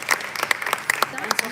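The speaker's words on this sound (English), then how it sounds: "Big applause to Geeta." An audience applauds Geeta at a silver jubilee campus meet, a brief burst of scattered, uneven clapping from a nearby group, with murmuring voices underneath.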